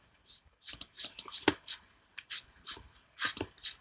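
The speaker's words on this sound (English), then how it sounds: "Take that outside bark off." Bark being stripped off a wooden stick to make a survival spear, heard as a series of close, dry scraping and tearing rasps in short irregular bursts.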